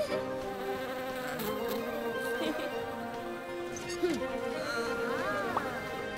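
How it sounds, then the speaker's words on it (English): A cartoon bee buzzes steadily and close for several seconds, its whine running under music and character voices in a children's cartoon scene at the beach. "A friendly little bee!"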